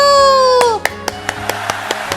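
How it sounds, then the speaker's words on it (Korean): A sustained tone ends, then a series of evenly spaced, sharp claps rings out one after another in a reverberant church room during a children's Sunday service. "우리 열매반 친구들을 위해서 박수!"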